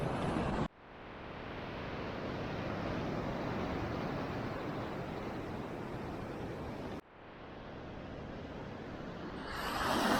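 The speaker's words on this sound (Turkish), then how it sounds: "Dalgaların büyüklüğünü göstereyim biraz." Ocean waves breaking at Manhattan Beach, California, seen from a concrete pier, giving a loud, continuous roar of surf mixed with wind rush, with brief cuts between steady washes and no talking.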